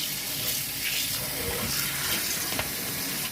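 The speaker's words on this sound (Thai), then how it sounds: "มาล้างในน้ำเย็นนะคะ น้ำน้ำเย็นธรรมดานะคะ" Rice noodles rinsed in a colander under ordinary cold tap water: a continuous close splashing stream of running water with small bursts as the strands are moved, no talking.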